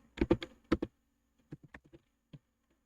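Keys clatter on a computer keyboard in a quick burst of typing, then a few slower, scattered keystrokes follow, close and fairly quiet.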